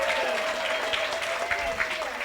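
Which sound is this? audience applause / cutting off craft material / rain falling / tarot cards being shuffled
audience applause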